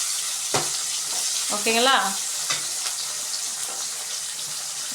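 Onions sauté in a pan for a fish curry, a steady close sizzle with a few light utensil knocks, while a voice briefly speaks over it midway.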